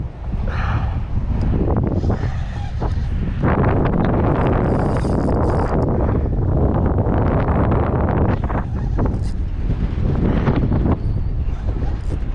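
Strong wind roars and buffets the microphone outdoors, a loud, constant rushing with gusty swells and rumbles that runs without a break.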